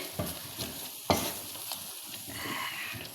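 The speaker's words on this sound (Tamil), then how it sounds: "மிளகுத்தூள் செலவுத்தூள் மசாலா தூள் உப்பு கொஞ்சம் எல்லாம் ஒன்றா போட்டு கிண்டி நல்லா கிளறி விட்டுட்டு" Spice powders and salt are stirred in a pan with a spoon, making a faint sizzle and soft scraping that is broken by a few sharper knocks against the pan.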